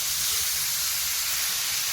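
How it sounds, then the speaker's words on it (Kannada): Onion and tomato frying in a pan for Rajasthani besan palak sabzi, a steady close sizzling hiss running continuously with no talk over it. "ಈರುಳ್ಳಿ ಸ್ವಲ್ಪ ಫ್ರೈ ಆದಮೇಲೆ ಒಂದು ಟೊಮೆಟೊ ಹಾಕ್ತಾ ಇದ್ದೀನಿ. ಇದು ಕೂಡ ಈಗ ಫ್ರೈ ಆಗಬೇಕು."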